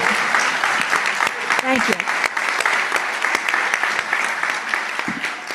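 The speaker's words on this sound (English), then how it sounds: "Okay, we're clapping anyway" Sustained applause from the audience at a board of education meeting honoring retiring staff, steady hand-clapping filling the room with brief spoken thanks over it.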